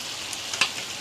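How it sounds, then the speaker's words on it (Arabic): Sausage pasta in a frying pan, stirred with a utensil: a steady soft sizzle of frying throughout, with a few brief scrapes and a sharper clink near the middle, close and moderately quiet. "نقلب كله وندخل كله في بعضه ونسيبه كده يتسبك مع بعضه شويه"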